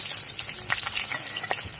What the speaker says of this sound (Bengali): এখন মাছগুলো গরম তেলে দিয়ে দেবো পর্যায়ক্রমে মাছগুলো আমরা দিয়ে নিচ্ছি